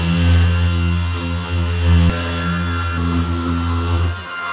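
A steady, loud electric sander drone with a strong low hum runs continuously while sanding plaster filler on drywall, then cuts off near the end.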